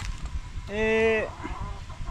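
A single drawn-out, tonal chicken call, nasal and harmonic, rising out of background chatter and lasting about half a second.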